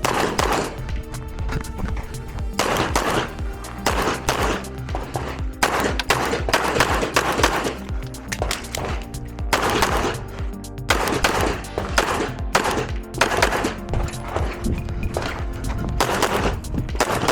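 Pistol shots ring out on a USPSA action pistol match stage, loud, rapid volleys of close gunfire in quick strings with brief pauses between them.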